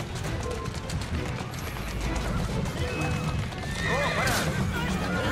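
Horses in the video game Assassin's Creed Syndicate neigh and gallop with steady clip-clop hoofbeats, a loud whinny rising near the end, while someone talks over the game sound.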